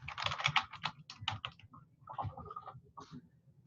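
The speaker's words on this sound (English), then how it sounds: "type in a search term" Close, rapid keystrokes on a computer keyboard as a search term is typed, in quick bursts with brief pauses between words.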